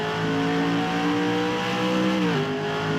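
Stock race cars at Rockingham Speedway roar past in a close pack, engines howling steadily at high revs with a pitch drop near the end as one car splits through, loud and continuous with no talking.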